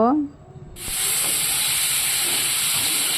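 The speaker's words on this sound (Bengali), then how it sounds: "গ্যাসের আঁচটা মিডিয়ামে রেখে 2 মিনিট পর্যন্ত ভালোভাবে কষিয়ে নিব" Spices frying in oil over medium heat for a spicy baim (eel) fish curry: after a brief quiet start, a loud, steady, broadband sizzle and hiss sets in abruptly and holds with no talking.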